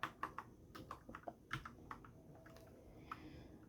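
Keystrokes on a computer keyboard while a shell script is edited, sounding as a quiet, uneven run of clicks that slow near the end.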